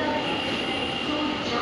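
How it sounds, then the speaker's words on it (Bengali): Metro train in motion, heard from inside the carriage as a loud, steady rolling roar with a faint high whine above it. "মেট্রোতে চেপে পড়েছে।"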